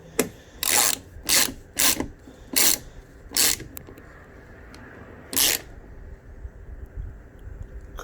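An Allen wrench ratchets spoiler bolts tight on a 2018 Dodge Challenger rear wicker bill spoiler, about six short close ratcheting bursts followed by faint handling noises and quiet.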